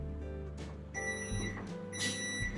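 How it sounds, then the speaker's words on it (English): Kitchen timer goes off while beef and Guinness stew cooks, a faint electronic beeping in short repeated bursts against quiet kitchen background hum. "so the timer's just gone off, so the stew has been cooking for an hour now"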